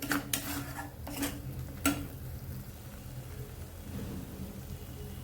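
Vegetables for veg Kolhapuri sabji fry in oil in a pan, a continuous crackling sizzle with a few sharp utensil clanks near the start.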